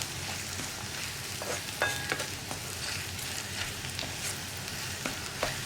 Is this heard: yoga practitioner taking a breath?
no